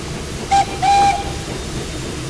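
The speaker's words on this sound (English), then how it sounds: "Let's hear her whistle, shall we?" A Thomas and Friends video game steam engine whistle sounds in two short blasts, the second longer, over a low rumbling background with a faint hiss.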